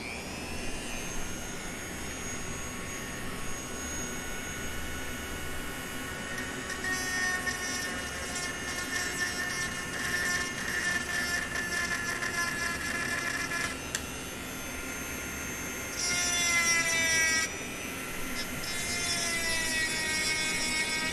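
A rotary tool fitted with a round burr grinds steel in a bladesmithing shop, a constant high-pitched whine with shifting tones as it bears on the metal, loud and close throughout with no talk.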